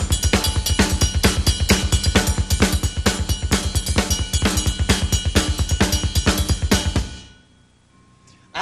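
A full rock drum kit drives a dense beat with rapid double bass drum, a snare backbeat and a mambo cowbell pattern played on the cymbal, loud and close before stopping abruptly near the end.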